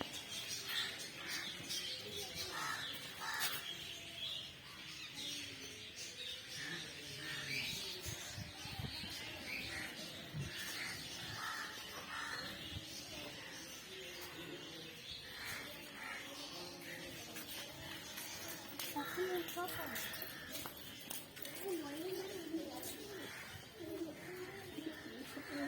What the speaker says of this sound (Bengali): কিন্তু হরেক রকমের পাখিও রয়েছে, এদের নাম জানি না